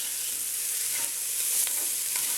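Very finely minced carrots stirred in a hot pan for ragu sauce, a continuous close frying sizzle with faint scraping of the utensil, no voices.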